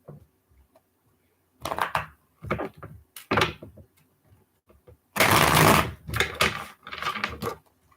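Several bursts of tarot cards being shuffled, crisp riffling and fluttering close by, with a long dense riffle in the middle and short pauses between.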